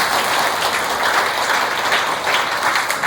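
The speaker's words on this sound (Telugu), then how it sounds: "కాబట్టి మీకు అందరికీ కూడా గట్టిగా చప్పట్లు కొట్టండి" A crowd at a Widows' Day gathering with a priest and sisters claps together in a loud, continuous round of applause with no voices over it.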